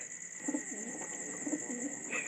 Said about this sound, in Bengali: এই যে এই কবুতরটা